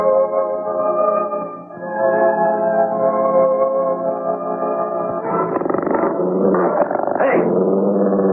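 A dog growls steadily and loudly throughout, rising into sharper snarling and agitated yelps toward the end as it attacks; no one speaks.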